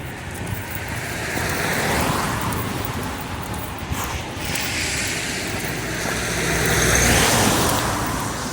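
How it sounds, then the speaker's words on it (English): Cars passing on a road near a local hiking path, heard as a steady broadband roar that swells and fades as the vehicles go by. "Cars coming up."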